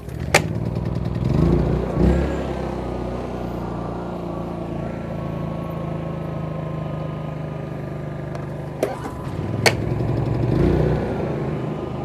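A portable generator, pull-started on choke, runs with a steady low engine drone close by, with a few sharp clatters and knocks rising over it.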